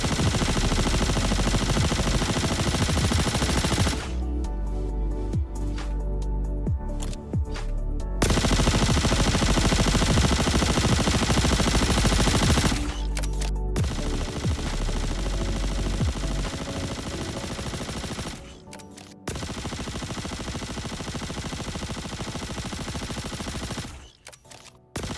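Weapons fire in the Star Citizen video game as long, loud, continuous automatic bursts of rapid shots, broken by a few brief pauses between volleys.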